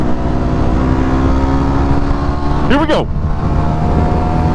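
A dual sport motorcycle at full throttle, its engine a loud continuous roar under heavy wind noise, with a short shout from the rider partway through.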